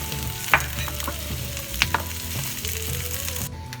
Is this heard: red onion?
yes